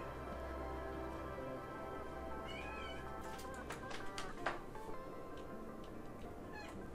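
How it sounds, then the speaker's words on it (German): A pet cat meowing in the background behind steady game music and ambient hum, with several short wavering cries in the middle and a faint one near the end, fairly soft and distant. "da ist meine Katze im Hintergrund"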